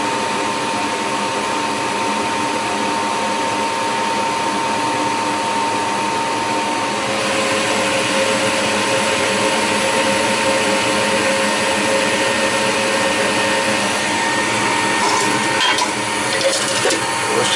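A gas furnace runs with its blower fan going: a steady, loud broadband whoosh of moving air with a mechanical hum underneath. Partway through it grows slightly brighter and stays continuous to the end, with faint clicks near the close.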